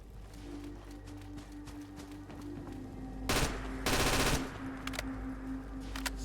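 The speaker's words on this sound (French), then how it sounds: "Les balles explosent à l'impact et infligent 15 dégâts de zone." Rapid gunfire with explosive bullets in the video game Fallout 4, heard as a rattling run of shots building to two loud, dense bursts near the middle, over a steady background hum.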